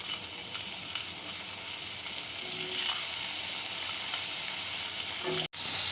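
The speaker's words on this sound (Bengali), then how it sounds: "আমি আলুগুলোকে প্রথমে ভেজে নেব" Potatoes fry in hot mustard oil in a kadai, giving a dense, steady sizzle with occasional crackles and a few stirring scrapes, then a brief drop near the end.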